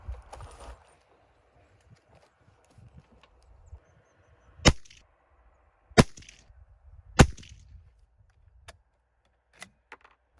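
A Zastava .22 Hornet rifle firing 40 grain V-MAX handloads cracks out three sharp, loud shots about a second and a half apart, with softer clicks and handling knocks between and afterward.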